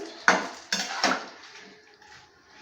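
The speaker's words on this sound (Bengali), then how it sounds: "অল্প জল দিয়ে আমি একটু নেড়ে ছেড়ে নিচ্ছি" A utensil scrapes and clatters three times in a pan of fish head chhechra curry after a little water goes in, then a softer wet bubbling lingers near and fairly quiet, with no talk.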